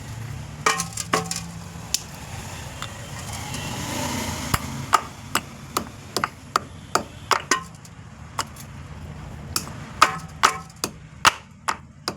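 Herbal soup ingredients such as sweet flag, cumin, pepper and long pepper are pounded by hand, giving sharp, irregular knocks and thuds close by, some in quick bursts, others spaced apart.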